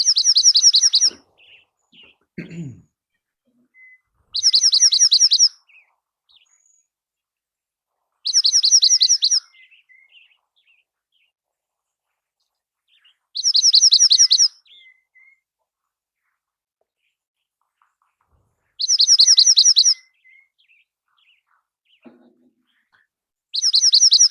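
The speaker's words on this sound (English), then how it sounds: "There's another bird in the background at the same time that I've tried to identify." Bursts of high, bright birdsong repeat at regular intervals of about four seconds, each phrase a quick trilled chirping, with near silence between and a faint lower call briefly heard.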